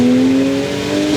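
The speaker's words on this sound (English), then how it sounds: "when that screamer pipe comes on, this thing is just ridiculously loud" A 450 kW Ford Falcon XR6 Turbo roars loudly and close up as it accelerates hard, its steady engine tone climbing with no talk over it.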